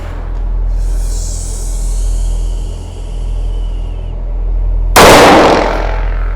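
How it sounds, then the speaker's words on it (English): One sharp, loud handgun shot cracks out near the end after a stretch of steady background noise, fired immediately after the pistol is drawn from a holster during a self-defense shooting assessment. "I'm going to safely do 1 shot, safely holster."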